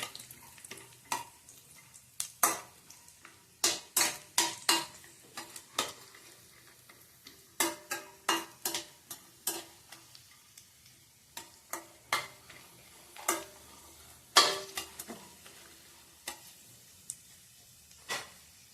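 Dry coconut roasts in a pan while being stirred: sharp, irregular clicks and taps of a spatula against the metal come in bursts over a faint, low sizzle, with quiet gaps between.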